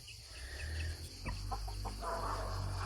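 Chickens cluck in a few short, soft bursts against a low steady hum, fairly quiet and without voices.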